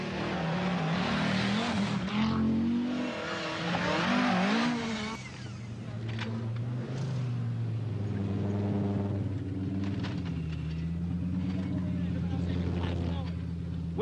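Rally cars racing on a forest stage, with a Ford Escort closing in, give a steady engine roar that rises and shifts in pitch as the cars accelerate, under continuous commentary.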